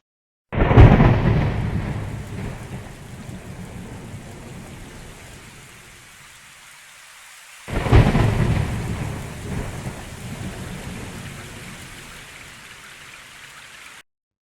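Two loud thunder crashes, one at the start and another midway, each rolling off into steady heavy rain that continues throughout.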